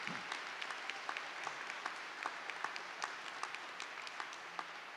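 Steady applause from a high school commencement audience, a dense wash of many hands clapping continuously at an even level, with no voices standing out.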